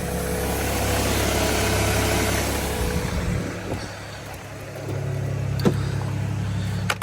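A Nissan Patrol GU with the M57 engine idling, a steady mid-level rumble that drops away midway, then resumes with a few small clicks and knocks nearby.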